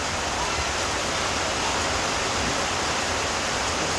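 Heavy rain pours down on a rural provincial house, a dense, steady hiss of broadband noise, loud and unbroken throughout with no voices.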